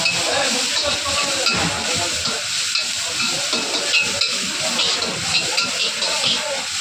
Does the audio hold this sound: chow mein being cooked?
yes